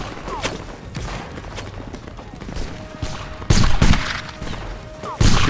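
Musket volleys crack out in a skirmish battle video game, several sharp bursts of massed gunfire with louder rounds near the end, over a steady din of distant shots and faint voices.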